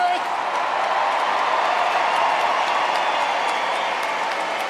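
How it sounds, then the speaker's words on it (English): A large circus audience claps for the Ringling Bros. and Barnum & Bailey band, dense, sustained applause at full volume throughout, with a faint cheer or two rising out of the wash of clapping. "we please ask that you give a round of applause to the hardest working musicians"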